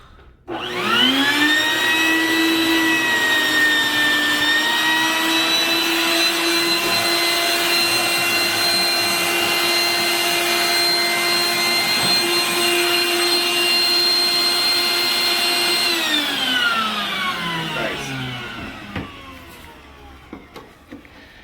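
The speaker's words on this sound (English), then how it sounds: "So what I will do is I'll use my vacuum." A wet vacuum runs steadily for about seventeen seconds with a loud, sustained motor whine, sucking the remaining water out of a toilet bowl during a toilet replacement, then winds down and stops near the end.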